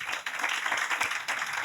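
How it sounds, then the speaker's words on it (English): Audience applause at a justice victim support services open house, a dense burst of many hands clapping that fills the whole short moment without pause. "Give applause for me for Officer Richardson."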